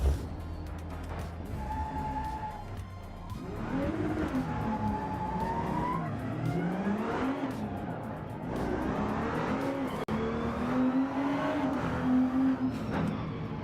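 Engine of a 1990s DTM touring race car in the Rennsport racing game, revving up and down through gear changes with tire squeal, loud and continuous, without talk.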